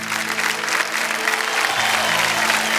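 A studio audience on the game show Kaun Banega Crorepati gives a brief burst of loud, dense applause for teachers.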